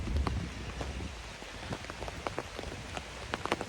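Steady rain falls outdoors, a dense patter of drops striking surfaces close by with scattered sharper splashes throughout and no voices.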